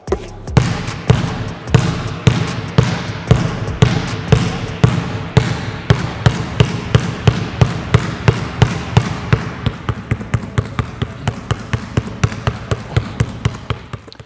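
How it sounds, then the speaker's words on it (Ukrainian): A basketball dribbled with hard one-handed bounces on a court in a weak-hand drill, a long run of loud, evenly spaced close thumps with no talking. "спокійне ведення, але через сильний удар"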